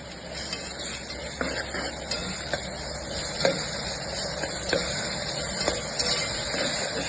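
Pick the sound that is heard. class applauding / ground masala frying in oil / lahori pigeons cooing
ground masala frying in oil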